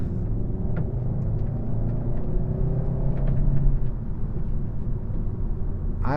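A 2023 Kia K5 EX accelerates, its engine rising in a steady rumble heard from inside the cabin, loud and continuous with road noise, with no talk.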